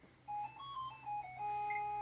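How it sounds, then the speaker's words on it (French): A telephone rings with a melodic electronic ringtone, a short run of clear rising and falling beeps heard alone, close and moderately loud. "c'est le téléphone qui a sonné"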